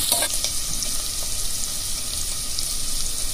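Onions sizzle and fry steadily in hot oil with cinnamon and cloves for a banana flower biryani, with a sharp burst right at the start as they go in, then constant crackling and no talking.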